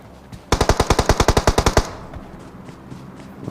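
Automatic gunfire in the mobile game PUBG Mobile: one sustained burst of about fourteen rapid, evenly spaced, loud shots lasting just over a second, then a quieter stretch of game ambience.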